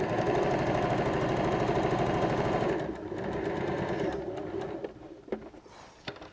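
A sewing machine runs steadily, stitching a lining-to-lining seam on a knot strap bag, a loud continuous mechanical whir that stops near the three-second mark, leaving quieter handling clicks and taps.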